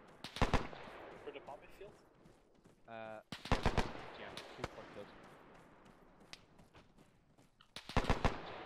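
Machine gun fire in the Arma 3 pre-WW2 mission, heard as sharp bursts at the start, in the middle and at the end, with players talking in between.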